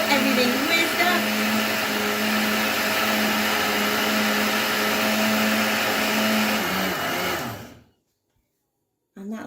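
An Acekool BC1 blender whizzes soup at steady high speed, a loud continuous motor whine with a pitch shift near the end before it cuts off abruptly, followed by a moment of silence and a brief restart.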